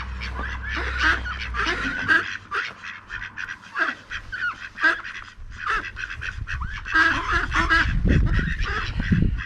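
A noisy flock of geese and ducks in a small Russian village honks and quacks continuously, loud and close, with overlapping calls and a low rumble underneath.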